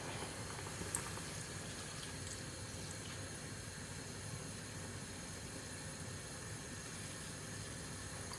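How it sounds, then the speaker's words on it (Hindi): Tea comes to a boil in a pot, giving a steady, faint bubbling hiss that runs evenly throughout with no voices. "चाय को उबाली आ गई है, ये देखो"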